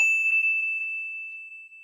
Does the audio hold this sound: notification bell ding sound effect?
yes